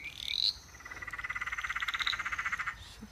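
A tree frog, either an eastern dwarf or a Peron's tree frog, calls at night in a rapid pulsing trill that rises and runs steadily for about two seconds after a brief squeaky opening note, close and clear over quiet background.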